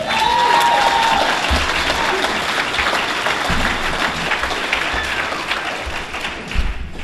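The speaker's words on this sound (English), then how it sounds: "If you're happy and you know, clap your hands." A crowd at a Narcotics Anonymous gathering in Texas claps hands together steadily and loudly for several seconds, a dense wash of applause with a voice heard briefly at the start.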